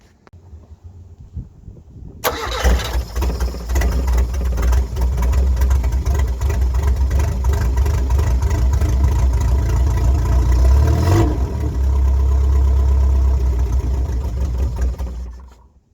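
A Toyota KE70 Corolla engine cranks and fires after a short quiet moment, then runs loudly with a steady, rough exhaust rumble that revs briefly before settling.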